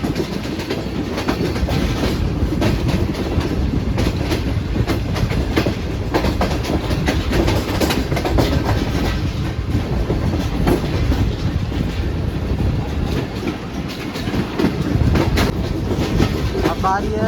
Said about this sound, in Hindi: खैर, मनी रेलवे स्टेशन से रवाना हो चुकी है अब हमारी ट्रेन।